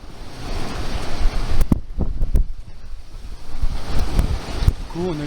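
Strong wind of around 25 knots at sea during an Atlantic sailing crossing roars steadily across the microphone, with surf and wave wash surging underneath, close and fairly loud throughout.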